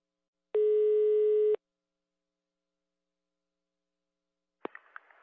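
A telephone line tone while a prank call is being placed: one steady electronic tone lasting about a second, then silence, then a few sharp clicks on the line.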